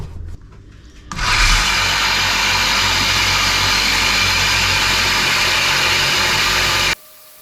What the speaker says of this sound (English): And now we're going to go to the belt sander.